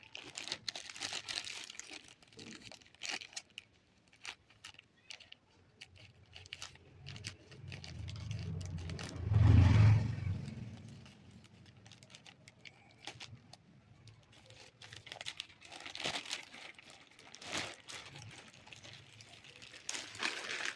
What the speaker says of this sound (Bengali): এবার চলো তোমাদের সামনে আনপ্যাক করি